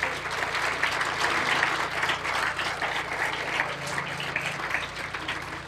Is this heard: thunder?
no